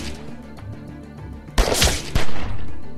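Gunfire in the video game The Walking Dead: 400 Days: a sudden burst of several loud shots and booms after a steady low game-ambience background.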